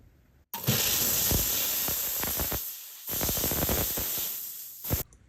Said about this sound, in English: We're going to steam the ring now.